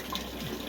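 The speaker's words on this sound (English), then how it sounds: "bring the water level down and siphon it out into a container which I have" Aquarium water siphoned out into a container makes a steady, close trickling and gurgling flow with no talk over it.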